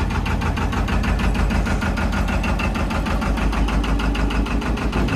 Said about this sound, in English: Obviously it's quite noisy at the moment because the engine is exposed.